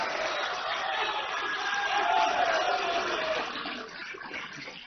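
A large rally audience at the Krishi Manthan 2026 event claps and cheers in a sustained, distant roar that swells in the middle and then gradually fades.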